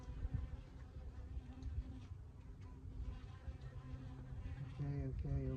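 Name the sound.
honeybees buzzing around open hive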